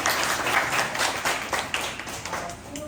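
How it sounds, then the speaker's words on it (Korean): A class audience at a jiu-jitsu session gives a short burst of applause for the instructor, brisk and fairly close, thinning out toward the end. "박수로."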